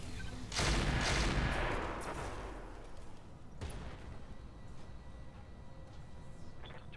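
Weapons fire in the Roguetech mod of the BattleTech video game, a loud burst of rumbling shots followed by a second sharp report and a fading tail, with no talk.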